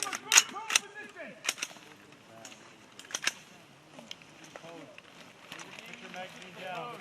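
Rifle fire at a U.S. Marine shooting range in Ojojihara, Japan, a few sharp distant cracks scattered through the clip beneath ongoing talk and range commands.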